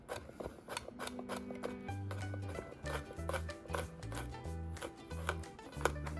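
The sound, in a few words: cutting through blistered green beans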